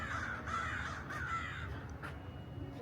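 Several crows caw from trees above a resort's fire pit area, harsh repeated calls at moderate distance over a soft outdoor background, with no one speaking.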